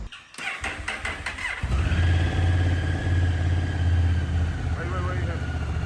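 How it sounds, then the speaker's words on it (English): A 2022 Honda NT1100 motorcycle starts with a short cranking burst, then settles into a steady close idle; a voice talks over the opening moments. "You need to start the bike."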